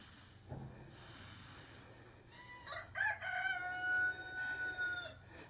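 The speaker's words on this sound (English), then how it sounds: "I do hear Ferdinand over there flirting with the chickens, though." A rooster crows once at moderate distance near a flock of chickens in a backyard setting, the long drawn-out call rising out of faint outdoor background.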